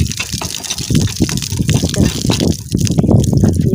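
Water gushes steadily along an open channel into a bed of plants, a continuous loud rushing flow with some splashing throughout.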